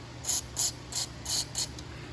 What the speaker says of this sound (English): You're gonna wanna spray some penetrating oil, whatever you have, liquid wrench.